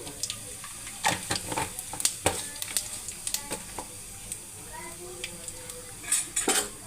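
A spoonful of cumin seeds hits hot oil in a pan, followed by sharp clinks and scrapes of a metal spoon against the cookware and a light, crackling sizzle underneath. The sounds are close and come in uneven bursts, with no speech.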